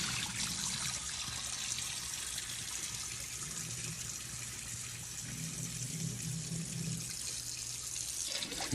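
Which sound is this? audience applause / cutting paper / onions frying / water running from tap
water running from tap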